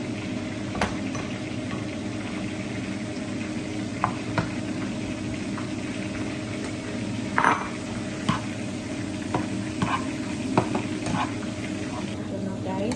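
Garlic frying in a pan for a chicken wings dish, a steady close sizzle with a few sharp clicks and pops scattered through it.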